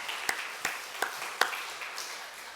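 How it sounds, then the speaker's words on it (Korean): Four sparse, evenly spaced hand claps from a church congregation during a worship service, faint and set against a quiet room hum. "하나님께 영광의 박수 돌려드리겠습니다"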